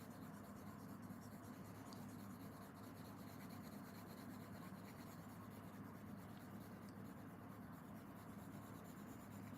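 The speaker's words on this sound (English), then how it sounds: "Just really lightly shading it with the side of my pencil here." A 2B pencil lightly shades on paper with its side, a soft, continuous steady scratching rub, faint and close.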